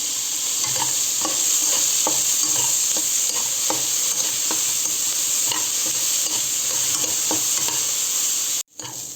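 Onions frying in oil in a pan while being stirred, with a constant close sizzle and regular scraping strokes of the spoon about every half second, then a brief drop near the end.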